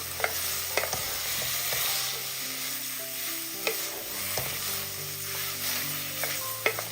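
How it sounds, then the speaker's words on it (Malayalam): Egg masala with crushed shallots, ginger and garlic sizzles steadily in a cooker while a spoon stirs it, sharp scrapes and clinks popping up every second or so over the constant close hiss. "എല്ലാം കൂടിയിട്ട് ഒന്ന് ഇളക്കി കൊടുക്കാം"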